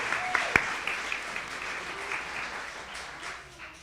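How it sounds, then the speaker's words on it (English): An audience at a Friday night synagogue service claps for a few seconds, a steady spread of hand claps with one sharp nearer clap early on, fading slightly toward the end. "Round of applause."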